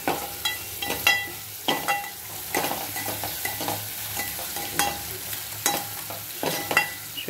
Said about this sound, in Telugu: చూడండి ఫ్రెండ్స్, ఇది మంచిగా ఫ్రై అయిపోతుంది.